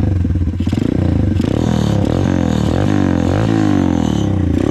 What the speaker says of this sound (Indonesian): saya mau cek sound suaranya ya. Knalpotnya ini masih standar bawaan